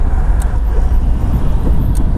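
A Volkswagen Golf Mk2 with a three-speed gearbox drives along, its engine and road rumble a steady low drone heard from inside the cabin, with no clear shifts or peaks.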